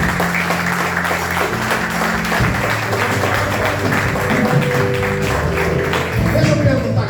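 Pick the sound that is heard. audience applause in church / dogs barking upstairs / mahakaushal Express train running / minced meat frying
audience applause in church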